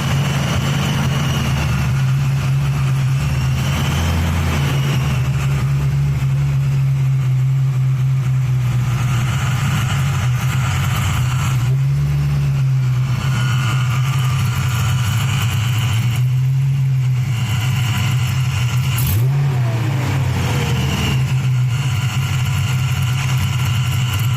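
A car engine fitted with a Vortech V3 SCI supercharger idles steadily at close range for the whole stretch, a low even drone with slight surges as the idle settles after a belt fix.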